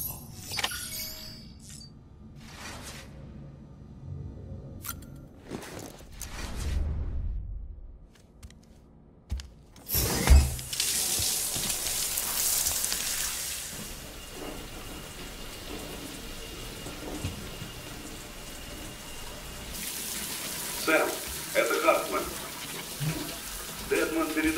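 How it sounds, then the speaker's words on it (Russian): Shower water running in the video game Death Stranding, a steady broadband hiss that swells loudly after a quieter start and carries on, with some talk over it. "Может быть, сходишь в душ?"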